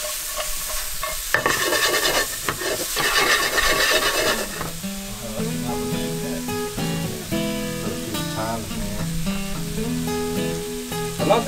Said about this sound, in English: Letting that saute. Shallot, garlic, right in there. Right amongst them mushrooms there.